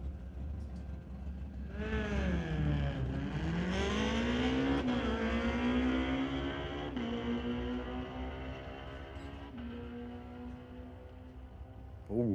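A Hayabusa motorcycle launches down a drag strip at an NHRA test and tune event, its engine screaming loudly through rapid upshifts and then fading as it pulls away, with the rising pitch falling back at each gear change.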